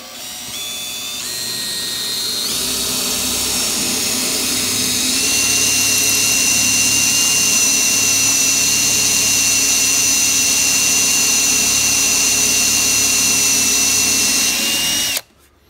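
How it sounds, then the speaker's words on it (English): A power drill whines steadily, its pitch rising as it spins up and bores a tuning pin hole into the wooden body of a harp guitar for a long stretch, loud and close, then stops abruptly. "Drilling the last zither pin hole here for the super treble."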